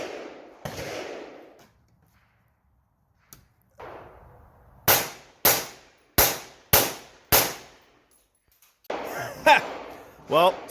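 A Steyr AUG rifle fitted with a suppressor, its gas system adjusted for suppressed fire, shoots five loud, evenly spaced rounds, with someone talking before and after the string.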